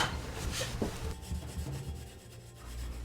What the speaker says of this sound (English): was just giving it a gentle scrub, really just trying not to damage the frame in any way